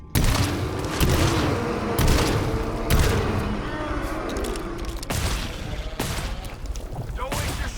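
Gunfire in the co-op shooter GTFO, a string of sharp, loud shots roughly a second apart with reverberant tails, under players talking.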